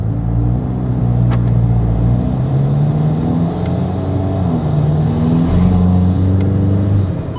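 Tuned Volkswagen Golf 8 GTI Clubsport engine running on a dynamometer, a loud, steady, close drone with slowly shifting tones as the revs rise and settle, and a few faint clicks.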